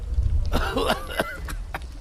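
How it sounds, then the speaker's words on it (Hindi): A man coughs hard several times in quick succession, harsh and close, over a low background rumble. "अचानक से उनमें से एक आदमी को जोर से खांसी आने लगती है।"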